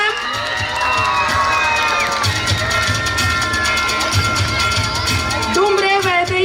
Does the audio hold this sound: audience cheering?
yes